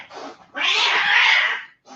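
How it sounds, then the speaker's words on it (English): Cats fighting give a loud, drawn-out caterwaul, a brief yowl followed by a long, harsh, wavering screech close by. "cat fight."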